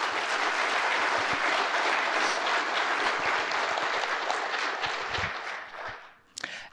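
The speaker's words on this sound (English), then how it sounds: "So a round of applause for them" Audience applause for the families of Medal of Honor recipients at a Veterans Day event, a sustained dense round of clapping that fades out near the end.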